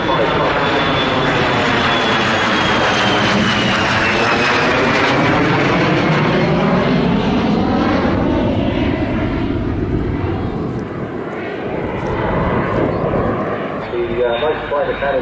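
An F-35 fighter jet flies past at an airshow, its loud continuous jet roar sweeping through a Doppler shift as it passes, with a commentator speaking over the noise.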